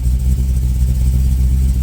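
Dodge Charger engine idling with its exhaust cutouts open in loud mode, a deep, lumpy, steady rumble heard close up and loud for a couple of seconds.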